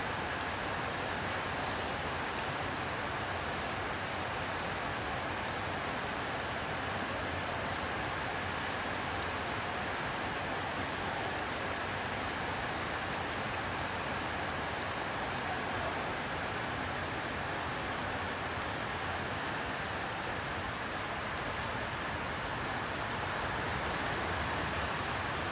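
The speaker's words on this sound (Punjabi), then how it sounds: "ਮੀਂਹ ਪੈਂਦਾ ਬਹੁਤ ਆ" Heavy rain falls in a steady, dense, loud hiss that runs unbroken from start to finish, with no voices or other distinct sounds.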